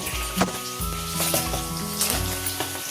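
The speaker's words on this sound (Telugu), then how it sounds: "deep fry అయిపోవాలన్నమాట" Paneer pieces deep frying in hot oil, a steady close sizzle with bubbling crackle throughout and a few metallic clinks of a utensil against the pan.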